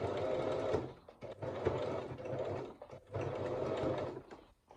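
A domestic sewing machine stitching a buttonhole, close and steady, running in several bursts of rapid whirring with short pauses between them.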